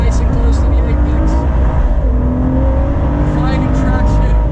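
A McLaren Senna or Ford GT sports car engine roars loudly and steadily on track, the pitch dropping as it downshifts through the gears into the final turn, with a voice talking over it.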